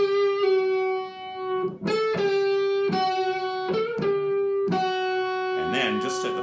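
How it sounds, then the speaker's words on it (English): Fender Stratocaster electric guitar on both front pickups with the tone knob rolled off, giving a thick, rich Les Paul-like tone; several strummed chords ring out and sustain clearly, one after another. "then we can get a fairly decent Les Paul type sound like this."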